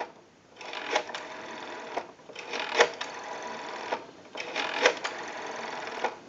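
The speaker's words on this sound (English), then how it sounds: "We have a nice smooth return on our rotary dial now." A Western Electric rotary wall telephone dial is wound and released three times, each return a quick, close ratcheting whir ending in a sharp click, with short pauses between spins.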